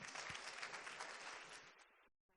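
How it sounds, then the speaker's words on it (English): Applause from a panel-discussion audience at an NFT event, a brief, lively burst of clapping from a small room that fades away and stops abruptly near the end. "Can we have a round of applause?"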